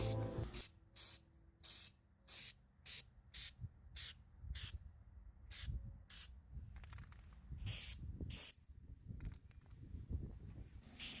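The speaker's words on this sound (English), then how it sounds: "I'm going to take some of this Rust-Oleum textured spray paint." Rust-Oleum textured spray paint hisses from a can onto Dollar Tree decor pieces in repeated close bursts of about a second each, with quiet gaps between, then a looser cluster of shorter sprays.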